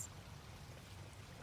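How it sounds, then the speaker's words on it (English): Steady, soft rushing of creek water over small waterfalls in the woods, a continuous broadband wash with no talk over it. "there's water in the background of a few waterfalls in this creek I'm sitting in"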